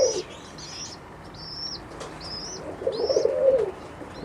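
Omsk and Siberian pigeons of the Russian Statnyje breed flap their wings near at hand in a loft, amid repeated high chirps. A soft throaty coo swells near the end.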